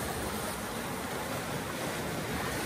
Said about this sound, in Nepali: हेर्नु त छालहरू